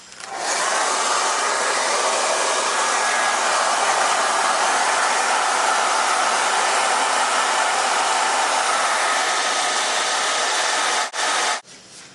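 A hair dryer blows steadily at close range, a loud continuous broadband whoosh that cuts out briefly near the end.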